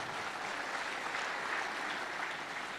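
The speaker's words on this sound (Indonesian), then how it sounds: "Sekali tepuk tangan bagi kita semua." An audience applauds at the close of a public lecture on the history of nationalism in Aceh. The clapping is steady, dense and moderately distant, and it holds at an even level for the whole stretch with no voices.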